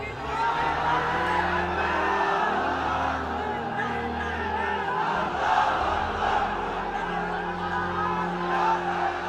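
A large crowd at an Islamic waz sermon shouts the takbir in loud, sustained unison, with repeated rising call-and-response waves of voices through the whole stretch.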